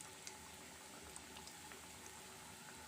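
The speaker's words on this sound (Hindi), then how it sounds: "सब पीसेस को हम फ्राई करेंगे" Chicken pieces for shawarma frying in oil over a medium-low flame: a soft, continuous bubbling sizzle with scattered faint pops, heard alone without talk.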